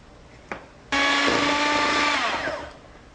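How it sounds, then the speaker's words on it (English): An electric whisk whips cream for a Black Forest cake, a brief tap followed by a loud steady whirring whine lasting about two seconds before it fades out. "we're gonna whisk this until this cream becomes thick and it forms a peak"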